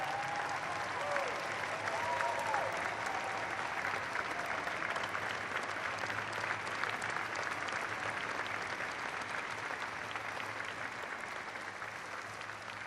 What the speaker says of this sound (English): So would you join me in giving a vigorous round of applause to Commander Bob Behnken and Commander Doug Hurley.